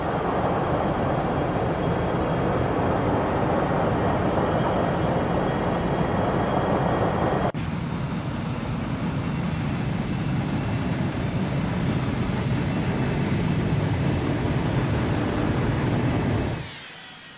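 An ERJ-145 regional jet's engines roar steadily during the takeoff roll on runway 23, heard from inside the cabin. The loud, continuous rumble with whine persists throughout and then fades sharply at the end.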